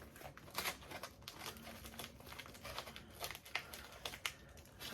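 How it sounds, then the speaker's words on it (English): Scissors snip and slice through a mail package's side while the packaging crinkles and rustles, a run of close, quiet crisp cuts and crackles throughout with no talking. "we'll get the scissors in the side bit there"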